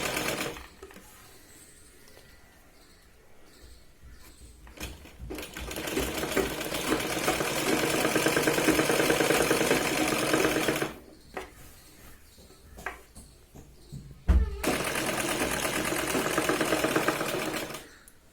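Stitching a Punjabi dress top, a sewing machine runs in close, loud, sustained bursts: a long stretch of whirring, a pause with small clicks and fabric handling, then another steady run.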